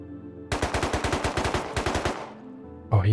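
A rapid burst of around fifteen AK rifle shots in the survival video game Rust, loud and evenly spaced, followed by a fading echo and a brief thump at the end.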